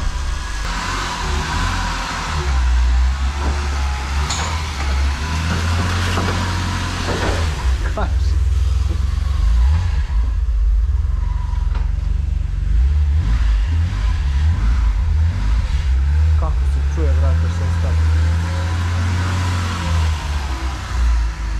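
A Mercedes 190 with a 2.6 six-cylinder engine runs from cold, a steady low rumble with a few rises in revs, close and continuous, with voices talking over it.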